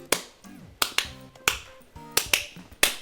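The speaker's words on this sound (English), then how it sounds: "It's never good when the thinking claps come." Sharp percussive hand sounds of someone idly clapping while thinking: six crisp, evenly spaced strikes about two-thirds of a second apart, close and fairly loud, with faint tonal background music between them and no talking.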